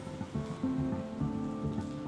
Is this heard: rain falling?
yes